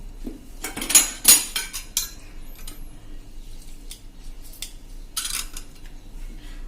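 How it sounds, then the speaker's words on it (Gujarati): Sliced potatoes are tossed with spices, salt and lemon juice in a bowl, producing a few sharp metallic clinks and scrapes of utensil against dish, loudest early on, then quieter intermittent mixing sounds. "આ બધું હવે આપણે સરસ મિક્સ કરી લેશું બધા મસાલા"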